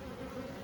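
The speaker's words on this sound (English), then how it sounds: "There's bees at the entrance." Honeybees at the entrance of a Layens hive give a steady, close buzzing hum, continuous and alone for a brief moment.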